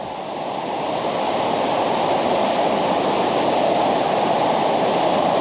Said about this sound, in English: That's the chute to channel the water